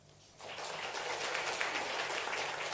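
A church congregation breaks into applause for scholarship recipients, starting abruptly after a quiet moment and continuing as steady, moderately distant clapping from a large group.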